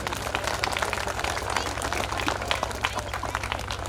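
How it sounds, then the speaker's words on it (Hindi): An audience at a village chapel welcome program gives dense, continuous applause, with a constant low hum beneath the clapping. "उनके लिए भी जोरदार ताली बजाएंगे"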